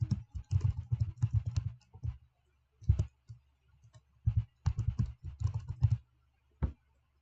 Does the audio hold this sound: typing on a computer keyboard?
yes